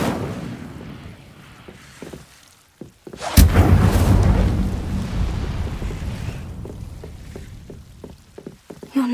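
In the Hogwarts Legacy video game, the Incendio fire spell sets off a sudden loud whooshing burst of flame that roars and slowly fades over several seconds.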